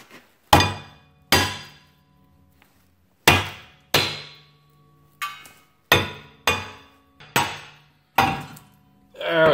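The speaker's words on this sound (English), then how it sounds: "We're going to get a bigger hammer." Loud metallic hammer blows ring out one at a time against a rusted, seized rear brake rotor on a Mazda 3, about eight heavy strikes with short pauses and ringing decay, no voices.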